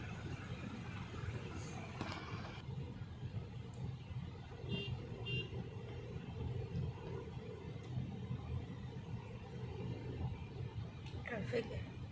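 Road traffic heard from inside a private car on the way into Lonavala, a steady low engine and road rumble with brief higher chirps and clatter, continuous and moderately quiet.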